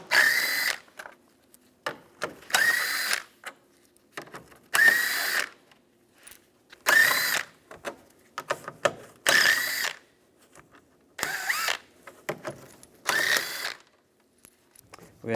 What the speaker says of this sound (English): Now we're going to take these bolts out, use a 10mm socket,